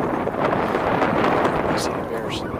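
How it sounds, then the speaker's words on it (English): Wind buffeting the microphone on a hike at Round Valley Reservoir, New Jersey, on a cold day around 50 degrees, a loud, steady rumbling roar filling the whole moment. "A little windy, cold."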